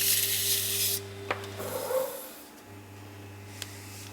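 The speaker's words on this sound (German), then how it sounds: "Da tue ich einfach nochmal ein ganz bisschen die Oberfläche aufrauen" The surface of a clay pottery piece for a coffee set is roughened by hand: a close, dry scraping rasp that fades after about a second, followed by quieter intermittent rubbing.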